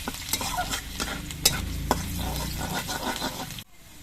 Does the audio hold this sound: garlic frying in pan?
yes